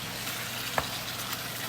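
Leftover grilled pork sautés in a hot pan for a late-night stir fry, giving a dense, even sizzle throughout with a single sharp click partway through.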